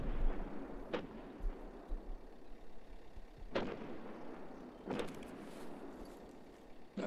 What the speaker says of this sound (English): It's a good thing those mortars can't reach us here.